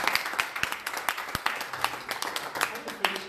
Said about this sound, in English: Can we give a round of applause to you?